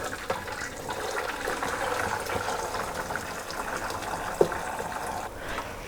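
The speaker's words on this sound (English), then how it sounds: "Now I'm just going to strain off the liquid from the stock." Liquid pours steadily as chicken stock is strained off for cock-a-leekie soup, a continuous splashing rush of water, fairly close, with a faint clink near the end.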